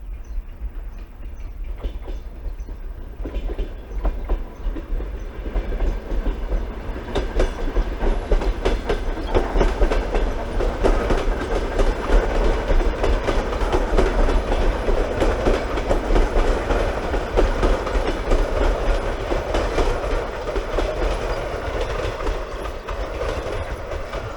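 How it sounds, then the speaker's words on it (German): A regional commuter train arrives, its rumble building from quiet to a loud, steady roll with rhythmic clickety-clack of wheels over rail joints, heard from nearby trackside without speech. "Endlich kommt ein Zug. Das muss ein Nahverkehrszug sein."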